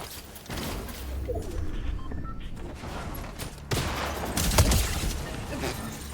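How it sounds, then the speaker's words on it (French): Gunfire crackles in a Fortnite match, scattered shots building into a louder burst of rapid fire near the end, set against game background noise. "Je lui ai mis 2 balles, il est mort littéralement."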